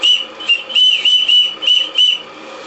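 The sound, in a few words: steam whistle of a live steam model boat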